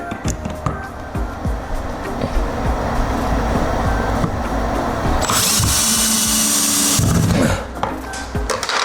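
A power drill drives a screw into a wall stud while a 75-inch LG TV mount is installed. Clattering handling noises lead into a loud, sustained drill whine lasting a couple of seconds, which then drops away.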